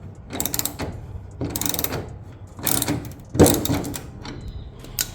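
A ratchet removes a bolt from the hood of a Genesis G70, with four separate bursts of rapid clicking spaced about a second apart, close and fairly loud.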